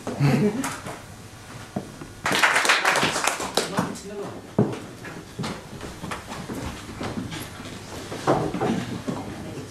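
An audience at the London Animation Club applauds animator Lizzy Hobbs, a loud burst of clapping that swells and then tapers under ongoing talk from nearby voices.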